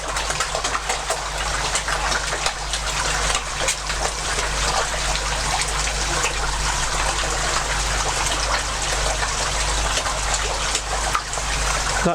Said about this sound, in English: I just need to top the water back up a bit.